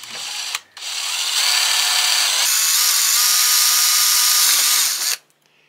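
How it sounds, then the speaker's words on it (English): A power drill whines loudly and steadily as it bores through a frame to mount a belt drive bracket, briefly stopping near the start, then running continuously before cutting off. "And we'll drill a hole right through the frame."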